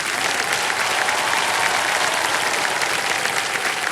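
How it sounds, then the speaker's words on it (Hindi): Studio audience applause on the Indian quiz show Kaun Banega Crorepati, season 17, during the fastest-finger-first round; loud, dense, continuous clapping from a large crowd fills the whole stretch without a break. "तालियां बज जाएं।"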